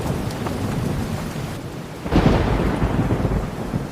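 Heavy rain pours steadily as a thunderstorm rolls through. Midway, a loud crack of thunder breaks into a deep rumble that lingers under the dense hiss of the downpour.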